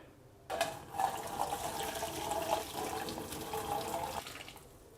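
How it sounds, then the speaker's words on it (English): Hot ham juices from a pan of Coca-Cola ham pour into a colander in a kitchen sink, a steady splashing gush lasting several seconds before stopping. "pour the really hot pan into that to catch the juices and hold the ham"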